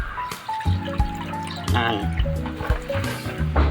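Freshly harvested grass for rabbit feed is dunked and sloshed in water, with splashy bursts and dripping over steady tonal background sound.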